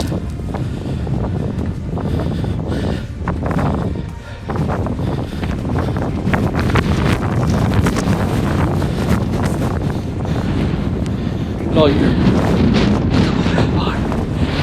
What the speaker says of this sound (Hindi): बहुत तेज हवा चली यार, धक्के मारी है तो